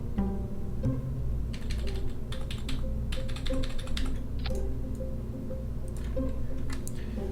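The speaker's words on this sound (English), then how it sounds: "Can you hear my keyboard a lot when I do that?" A computer keyboard is typed on in quick, irregular bursts of close clicky keystrokes over a steady low background hum, with no talk.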